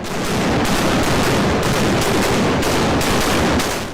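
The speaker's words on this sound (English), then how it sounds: "In a staccato of cannon fire and smoke" Naval cannons fire a broadside in a rapid staccato of loud, repeated booming blasts, about seven in four seconds, close and with no talk.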